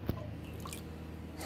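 Water dripping after being poured over a Gopal idol during a Rath Yatra home worship: one brief drip or splash at the start, then soft room noise with a few faint wet sounds.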